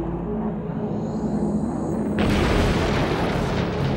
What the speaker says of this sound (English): a satellite-guided bomb dropped from a B-52 bomber overhead explodes